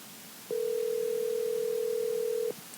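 A steady phone tone holds for about two seconds as a call is placed, clean and alone over faint background hiss.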